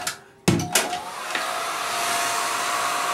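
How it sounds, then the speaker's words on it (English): A hair dryer clicks on with a few sharp knocks and handling sounds, then settles into a steady whooshing roar of hot air aimed at a rubber vinyl Mickey figure. "If you take a hair dryer"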